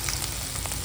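Onions frying in a pan with ginger for Kundapura-style chicken sukka, a brief close, steady sizzle with faint crackles and no voices.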